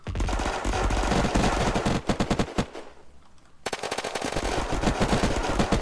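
Automatic gunfire in the survival game Unturned: loud sustained rapid shots rattling almost nonstop, with a brief lull of about a second midway before the firing resumes just as heavily.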